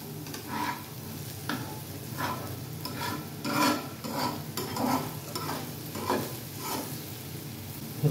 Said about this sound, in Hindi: पूरा मसाला मिक्स करेंगे।